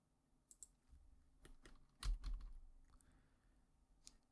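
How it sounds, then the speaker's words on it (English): Keys on a computer keyboard are pressed during CAD modelling work, a few soft, irregular taps and clicks at low volume against faint room noise. "I'm pressing DL on the keyboard to activate detail line"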